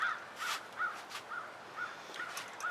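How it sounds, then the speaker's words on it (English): Several crows caw in a steady series of short, rasping calls, evenly spaced and moderately distant, with no other sounds. "The murder of crows is forming, it sounds like."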